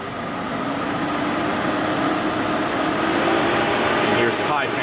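An aftermarket oil cooler fan runs at low speed, giving a steady, even whir with a broadband rush that holds level throughout, close by with no talking.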